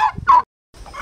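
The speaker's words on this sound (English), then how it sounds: "So there is a little bit closer up on our laying hens and roosters" Laying hens and roosters on a hot day, heard close: a couple of short, loud clucking calls, a brief pause, then more clucking from the flock.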